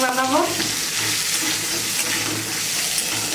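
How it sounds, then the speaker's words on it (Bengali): Two tomatoes are stirred and fried with garlic in a pan for chicken kosha, giving a loud, close sizzle with scraping stirs and a brief voice at the start. "টমেটো দুটোকেও একটু নাড়াচাড়া করে নামিয়ে নেব।"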